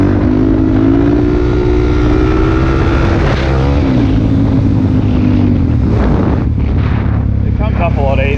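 A Suzuki DRZ400 dirt bike fitted with a 3x3 mod, JD jet kit and K&N filter runs loudly and steadily at a wheelie spot on a warm day, its engine pitch sliding and rising close to the microphone throughout.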